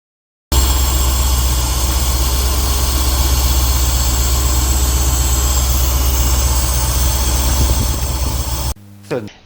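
A Mercedes-Benz engine runs steadily with a freshly cleaned Bosch D-Jetronic additional air slide valve bolted on, a loud, even idle drone lasting several seconds before cutting off abruptly.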